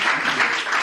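Brief burst of audience clapping at a live talk event with a photographer guest, a dense, steady wash of many hands heard alone for under a second.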